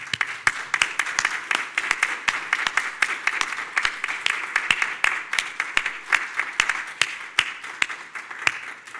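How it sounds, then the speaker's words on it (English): A full audience applauds graduates standing to face them at a fall graduation ceremony, with dense, steady clapping and sharp individual claps standing out throughout, sustained and fairly loud. "let's give them one more round of applause"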